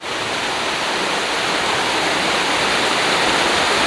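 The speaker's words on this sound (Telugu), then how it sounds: "బీరకుప్పం వాటర్ ఫాల్స్" Beerakuppam waterfall near Nagalapuram in Tirupati district pours in a loud, steady roar of rushing water, close and unbroken, with no voices.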